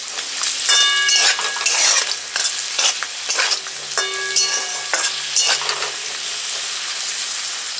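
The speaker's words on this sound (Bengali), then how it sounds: "আলু ভাজা হয়ে গেছে, আমি এগুলো তুলে নিচ্ছি।" Potatoes fry in oil in a home kitchen pan, giving a steady loud sizzle throughout, broken by scraping stirs and a few metallic clinks of a utensil against the pan, with no talk.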